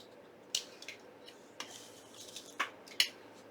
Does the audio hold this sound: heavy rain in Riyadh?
no